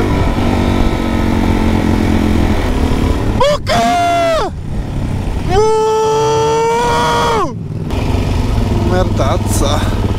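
A motorcycle engine runs close and loud, sputtering and popping unevenly on a rough road, while voices shout briefly over it.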